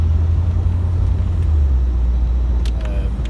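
A 1990 Corvette C4 drives along an open road, giving a steady low rumble of engine and road noise, close and continuous with no talk.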